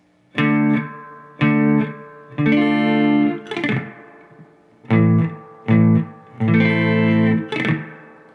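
Distorted electric guitar playing the second part of a song intro at slow speed, a series of chord strums in an uneven rhythm with short gaps, some ringing out longer, close and clear.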